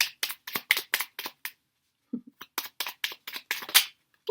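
A deck of playing cards is shuffled in a tarot-style reading, giving a quick run of crisp riffling bursts, a short pause, then another burst of riffles, close and fairly loud with no talking.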